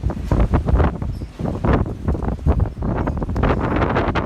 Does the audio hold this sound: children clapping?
no